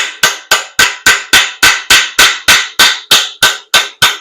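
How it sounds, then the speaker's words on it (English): A small hammer strikes a 27 mm socket, driving a brass freeze plug into an engine block: fourteen sharp, evenly spaced metallic blows, loud and close, each with a short ringing decay. "I'll use a small hammer to drive that in"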